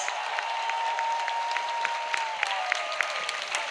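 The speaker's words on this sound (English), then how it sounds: "Clap for Jesus." A congregation at an evangelistic church service claps for Jesus, with dense, sustained applause and some sharper individual claps standing out, alongside a faint held tone in the background.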